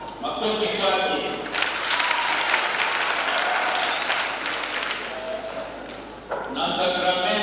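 A crowd of churchgoers at a children's First Communion question-and-answer session in a parish breaks into sustained clapping, with voices speaking over the start and again as the applause resumes near the end.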